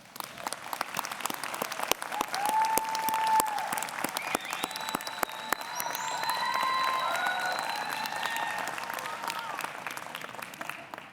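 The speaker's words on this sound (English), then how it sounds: "please look at them and please give them a big round of applause" At a university graduation ceremony, the crowd applauds the graduates' friends and loved ones, sustained clapping from a large audience with scattered sharp claps, cheers and whoops rising over it, fading toward the end.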